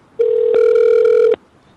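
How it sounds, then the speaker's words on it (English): A single outgoing-call ringback tone sounds on a telephone: one clear, steady electronic ring, loud and close, lasting just over a second before silence. "Yeah, I'm calling his phone now."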